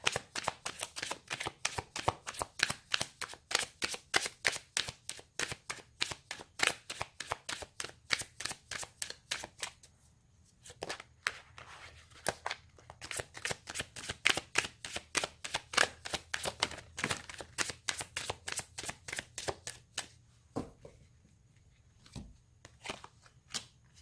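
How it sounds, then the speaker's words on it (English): A deck of tarot cards is shuffled by hand in a steady run of crisp, rapid riffling clicks. The clicks come in dense bursts with a couple of short pauses, close and clear, with no talking. "Now let's pull a card for your suggestions for the month."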